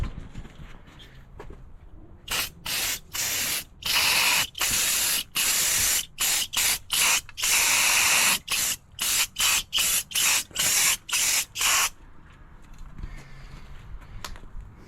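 Spray paint goes onto a second coat in the engine bay of a 1966 Mustang as a series of loud, close hissing bursts. Short and longer pulses come in quick succession, framed by quieter ambient noise at the start and end.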